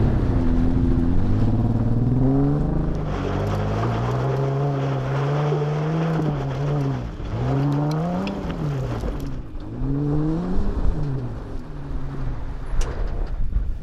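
A Jeep JKU revs its engine repeatedly while hot dogging off-road, loud close engine tone rising and falling in several surging revs with no talk.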